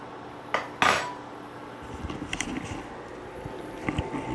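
Metal fork clinking against dishes in a home kitchen while French toast is made, two sharp rings followed by a series of lighter scattered clinks and scrapes, close and fairly quiet.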